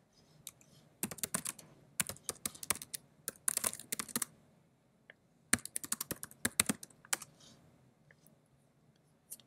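Someone types a command on a computer keyboard, with quick bursts of close key clicks separated by short pauses, in a quiet room.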